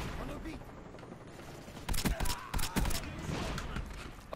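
Gunfire on the Nuketown map in Call of Duty, a few sharp bursts clustered together in the middle over a low game background, with someone talking around them.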